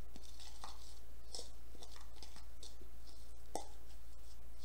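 A clay face mask paste for oily, acne-prone skin being stirred with mineral water, giving soft, wet, irregular clicks and squelches, close and quiet over a steady low hum.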